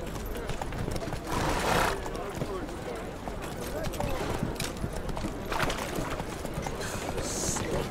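Horse hooves clip-clopping at a steady gallop across the ground in The Witcher 3, a continuous rhythmic patter with a rider's voice speaking over it.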